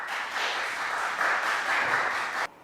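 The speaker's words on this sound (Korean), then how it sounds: "박수." Audience applause greets a student moderator introduced at a Korean student debate event on blind hiring, a steady dense crowd clapping for over two seconds that stops abruptly.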